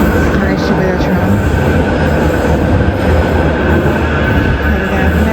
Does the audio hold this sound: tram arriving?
yes